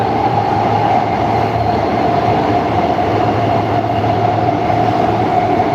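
A Warsaw metro train running, heard from inside as a steady, loud rumbling roar with a constant mid-pitched whine and low drone, unbroken for nearly six seconds with no voices.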